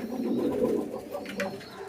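A pigeon coos softly and close by, a low throaty burble lasting a moment before fading.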